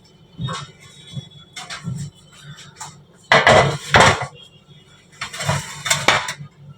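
A metal saj griddle pan is handled in a home kitchen, giving several loud, uneven clanks and scrapes of metal on metal, with short quiet gaps between the bangs.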